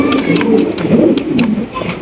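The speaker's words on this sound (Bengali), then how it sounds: "ব্ল্যাক সিরাজি কবুতর দেখতে পাচ্ছেন বিগ সাইজের" A big black Sirazi pigeon coos in a low, rolling murmur close up, with a few sharp clicks and taps scattered through the steady calls.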